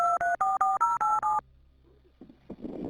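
Rapid series of touch-tone telephone dialing beeps, about seven even pulses, heard while an emergency dispatcher transfers a 911 call about shots fired, followed by a quiet line hum and faint rustling.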